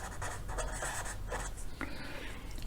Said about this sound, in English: because we are drawing a triangle inside a circle